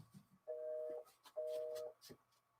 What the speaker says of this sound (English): Is that somebody's phone?